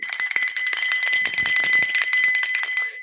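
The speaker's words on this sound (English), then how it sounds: "I hold the bell like this. Like this. And I'm shaking it like that." A hand bell shaken steadily for about three seconds, ringing continuously with bright overlapping metallic peals, close and loud, with no talking.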